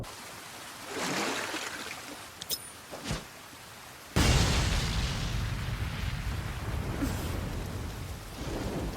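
Storm in an anime with sharp thunder cracks and a sudden loud rumble, followed by heavy steady rain pouring on surfaces, close and dominant with no talk.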